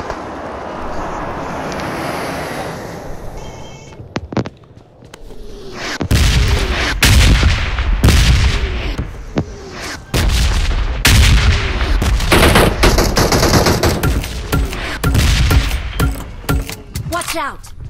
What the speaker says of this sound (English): someone called a bomb strike on us